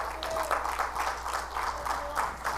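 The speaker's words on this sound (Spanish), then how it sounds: "Denle palmas a los hermanos de la bienvenida." A church congregation claps for the welcome team in a lively, rhythmic burst of applause, moderately loud throughout with a faint tonal hum underneath.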